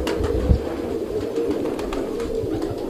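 An Iranian pigeon, a large bird, gives low soft coos close by over a steady murmuring background, with no voices heard.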